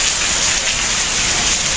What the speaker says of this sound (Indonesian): Air hujan dari langit